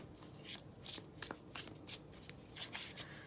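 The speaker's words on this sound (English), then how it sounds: "And then another quick shuffle." Tarot cards being shuffled in quick riffling bursts, close and soft, with light rhythmic flicks and no talking.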